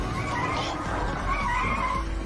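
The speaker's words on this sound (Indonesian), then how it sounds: "pengemudi melaju lurus ke depan" A car drives straight ahead in a film scene, giving a steady engine and tire noise with some skidding-like scraping, moderately loud throughout.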